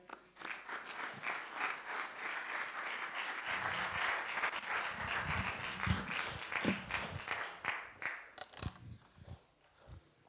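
Applause from a church congregation welcoming a professor to speak, a sustained wash of many clapping hands, faint and distant, with crowd murmur and a few louder claps near the end.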